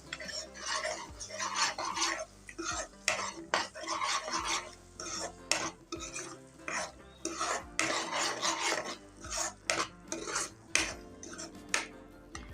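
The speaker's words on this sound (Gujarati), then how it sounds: "હવે બધો મસાલો આપણે સરસ રીતના મિક્સ કરી લઈશું હલાવીને" A spoon scrapes and stirs masala rhythmically in a metal pan, with repeated rasping strokes and occasional clinks, close up and without speech.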